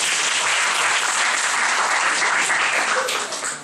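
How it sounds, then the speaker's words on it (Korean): A church congregation claps together, a loud, dense and steady burst of applause that holds evenly before fading at the end. "박수 한번 쳐드릴게요"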